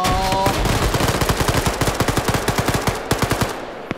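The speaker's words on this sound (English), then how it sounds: "That Green 4 guy still had to reload his PKP, so Bant was able to get a free kill" A PKP machine gun in a video game fires a long, loud sustained burst, rapid evenly spaced shots continuing for several seconds before stopping, with no talk.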